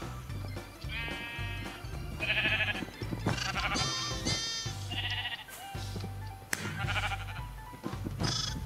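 Sheep bleat repeatedly in a Minecraft mini-game, several short wavering calls over a steady low background hum, with occasional clicks and no speech.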